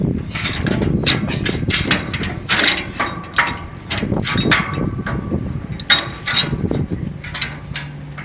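Mould fastening on a VLM brick and paver machine is loosened, a loud, close run of ratcheting metal clicks and clanks in irregular bursts, without speech.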